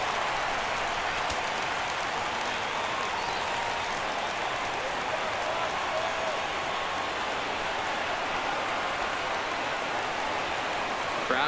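A stadium crowd roars steadily in the MLB 17 The Show baseball video game, a dense, loud, even wash of cheering and clapping that rises for a full count at a Red Sox home game, with no talk over it.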